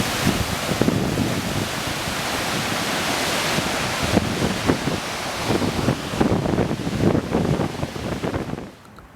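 A swollen Wisconsin river in spring flood, a dense, steady rushing roar of moving water, with wind buffeting the microphone and a few louder bursts before it cuts off near the end.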